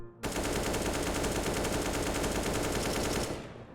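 Sustained automatic weapon fire in Counter-Strike, a rapid unbroken burst lasting over three seconds, loud and close with no talk, cutting off abruptly at the end.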